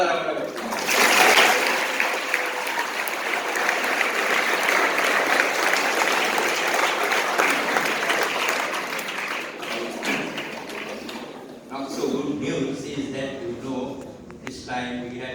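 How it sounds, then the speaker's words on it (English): Audience applause at a boys' school competition results announcement, a dense, loud clatter of clapping sustained for about ten seconds before fading, with talk following. "You all deserve another round of applause."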